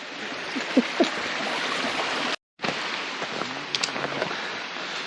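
A mountain stream crossed during a hike on the Lycian Way near Patara: steady, loud rushing water fills the scene, with brief splashes and knocks up close and a short gap of silence midway.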